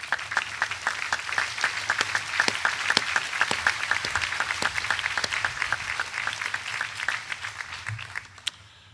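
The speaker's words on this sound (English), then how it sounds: "If you all will please stand up, we will applaud you." A convocation audience at the College of William & Mary gives sustained applause for standing Board of Visitors members, dense crowd clapping from a large room, tapering off at the end.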